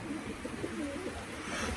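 Young pigeons coo softly and continuously inside a loft, overlapping low murmuring calls against a steady background hum, with no talking.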